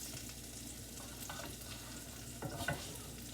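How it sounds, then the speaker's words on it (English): Mushrooms frying in hot butter in a pan, a soft steady sizzle with faint crackles and a few small pops and stirring scrapes, fairly quiet and close, with no talking. "So I'm going to put these in on that side first."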